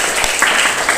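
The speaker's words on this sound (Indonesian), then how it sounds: "Tepuk tangan untuk kelompok 3." A classroom of students applauds a student group after its presentation on Eid prayers, a brief dense burst of clapping heard close and fairly loud.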